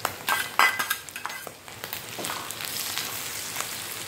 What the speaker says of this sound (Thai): ทีนี้ก็จะใส่กระเทียมลงไปให้หมดนะคะ